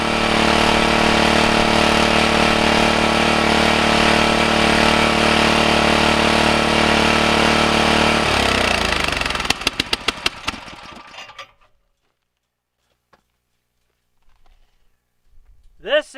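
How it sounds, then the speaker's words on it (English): Gas engine driving a 12-inch rock crusher runs loud and steady for about eight seconds, then winds down with sputtering pops and goes quiet, followed by faint scattered sounds. "It's a 12-inch rock crusher."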